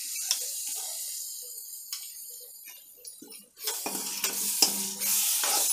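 Ground masala paste hits a hot tempering in a pan and frays into a busy sizzle, with the scrape and clatter of stirring. The frying gets louder and denser in the second half.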